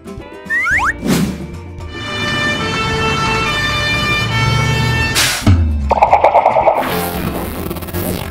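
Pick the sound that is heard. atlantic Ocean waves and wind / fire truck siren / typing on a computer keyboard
fire truck siren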